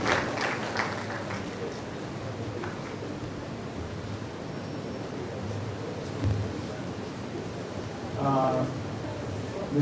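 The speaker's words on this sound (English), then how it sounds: "Keep clapping until he gets to the podium." An audience applauds steadily at a university memorandum signing with Nestle, the clapping a dense, continuous wash through the room while a speaker makes his way to the podium, swelling briefly near the end.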